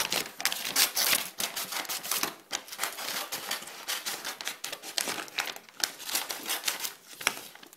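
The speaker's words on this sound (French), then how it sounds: "ce que vous allez faire avec l'emballage cadeau, c'est que vous allez le couper en petits rubans, comme ceci" Gift wrapping paper being cut into small ribbons, with steady rapid crinkling and snipping of the paper, close and fairly loud, continuing throughout without talk.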